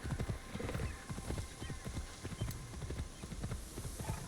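In the video game Assassin's Creed Shadows, a horse's hooves clip-clop in a quick, steady rhythm, joined by a whinny, fairly close and with no voice over it.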